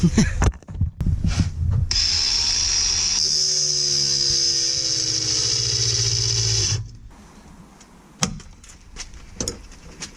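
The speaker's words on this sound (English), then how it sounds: "Angle grinder." Angle grinder cutting through a stuck part on a Toyota Aygo, a loud sustained high whine with grinding noise lasting about five seconds, then winding down into quieter handling clatter.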